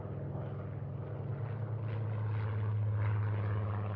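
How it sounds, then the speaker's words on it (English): WWII warplanes taking off from the Midway island runway, a steady loud drone of aircraft engines that builds slightly over a few seconds, with no voices over it. "Aircraft erupted from the Midway runway, some to save themselves from attack, others to defend the island."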